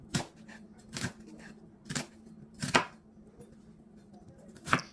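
A knife slices through an onion on a cutting board in a handful of sharp, separate strokes spaced about a second apart, close and fairly quiet over a low steady hum.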